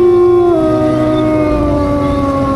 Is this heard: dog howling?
yes